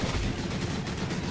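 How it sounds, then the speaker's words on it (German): A cannon explosion in the video game Tower of Fantasy: a dense, sustained boom with heavy low rumble and broadband crackle, loud and continuous through the short moment without speech. "Explosion von der Kanone."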